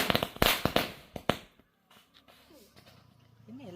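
A rapid string of sharp Diwali firecracker bangs crackles loudly for about a second. Quiet follows, then a voice speaks and a dog whines.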